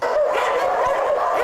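Several dogs bark and yip together in a steady, dense chorus at an animal shelter in Taiwan, loud and continuous with no talk over it.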